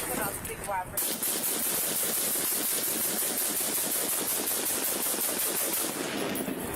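Rapid, dense gunfire aimed at a police officer, a sustained burst of closely spaced shots lasting several seconds, loud and near, with a brief voice just before it starts.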